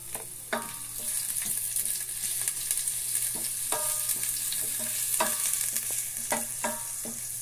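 Garlic fries in hot oil with a constant bright hiss, broken by repeated sharp clicks and taps of a utensil against the pan at an uneven pace, close up, with no voices.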